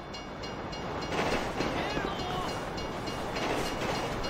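A train rumbles past in Grand Theft Auto 5, a steady loud roar of rolling wagons that swells slightly midway, with game voices mixed over it.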